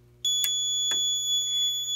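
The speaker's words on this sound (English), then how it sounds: "This is going to beep like crazy in a second." Simplex 4004 fire alarm panel sounding a steady electronic tone with sharp clicks, as all alarmed outputs are disabled; close and continuous, with no talk.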